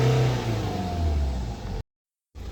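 BMW 5 Series diesel engine running and revving nearby, a loud steady rumble with rising rev surges that cuts out abruptly near the end, then resumes briefly.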